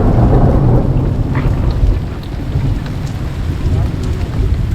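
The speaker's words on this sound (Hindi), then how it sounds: "तो गाइस हम चल रहे थे और बीच में बारिश आ गई, तो हम इस शेड के नीचे खड़े हो रखे हैं" Heavy rain pours down steadily under a shelter on a mountain road toward Kedarnath, with deep rolling thunder rumbling throughout, loud and continuous.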